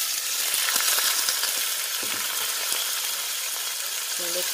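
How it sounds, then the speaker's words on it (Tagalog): Tofu fries in a hot pan for a dish of sautéed string beans with pork, giving a steady, close sizzle with occasional clinks of utensils. "Mainit na yung ating kawali or pan. So, ilagay natin ang ating tofu or tokwa."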